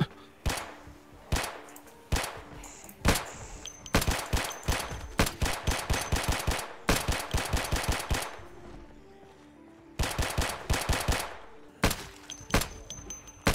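Vector submachine gun fire in the Project Zomboid video game, loud repeated bursts of rapid shots with brief pauses between them, close and dominating, with no voices over the firing.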